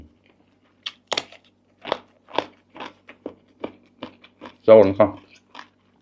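Crunchy blanched vegetables eaten with a fermented fish chili dip, heard as a series of crisp, close bites and chews spaced irregularly, with brief speech.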